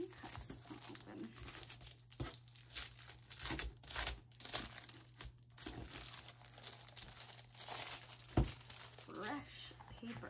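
Scissors cut into a new paper collection pack for a mini album craft, followed by close crinkling and tearing of the plastic wrapping, with soft talking over the rustle.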